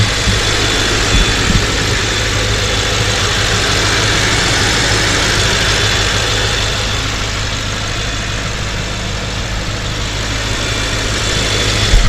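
A BMW M6 F13 engine idles with a steady low rumble and hum, close and loud, holding an even pitch.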